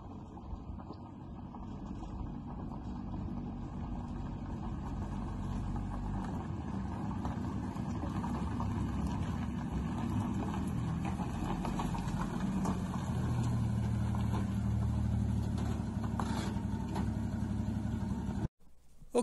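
A 1948 Chevy Sedan Delivery driving up on a highway, a steady low engine rumble and road noise building as it nears, continuous for most of the stretch before cutting off abruptly.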